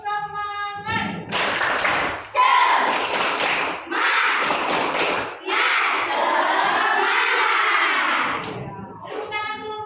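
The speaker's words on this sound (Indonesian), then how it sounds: "Sebelum kita mulai, kita tepuk semangat dulu ya." Children in a classroom perform a rhythmic 'tepuk semangat' clapping chant, loud and close, with bursts of patterned claps and chanting voices running under an adult's spoken lead-in.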